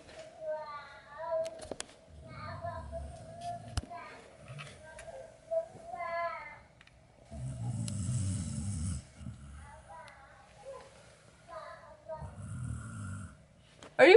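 A sleeping child snores in a steady, repeated rhythm of low rasping breaths, close and moderately loud, while an adult talks softly over and between the snores in a quiet room.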